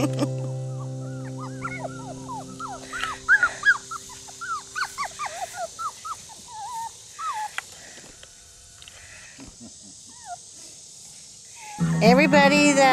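Aussiedoodle puppies yip, whine and squeak at each other in a quick run of short high-pitched cries that fades partway through before a loud burst near the end, with a steady hum underneath.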